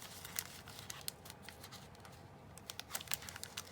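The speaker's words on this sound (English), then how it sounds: "I'm going to go ahead and just go down the thing with that. These sharp scissors." Sharp scissors snip through a plastic photo album pocket, giving quick, crisp crunching and rustling cuts in an irregular series, close and fairly quiet.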